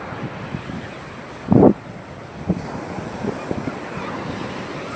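Sea waves wash in at a full, high-tide shore, a steady roar of surf mixed with wind buffeting the microphone and a brief louder thump.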